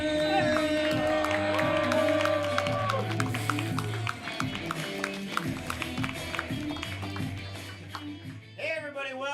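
Comedy club audience clapping and cheering as the host comes on stage, a loud burst of applause and whoops over a pounding walk-on music bed, thinning out near the end.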